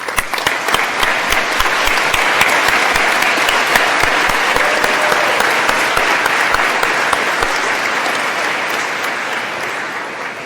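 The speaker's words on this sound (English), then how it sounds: "join me in a round of applause to recognize their sacrifice and support" A big graduation crowd at a 2023 commencement ceremony claps in long sustained applause, a loud, even wash of many hands that continues for about ten seconds and fades slightly at the end.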